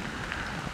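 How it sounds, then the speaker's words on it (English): Rain falls heavily in the woods during a whitetail deer hunt, a steady soft hiss of drops on leaves and ground, faint and continuous with no talking. "It's raining harder."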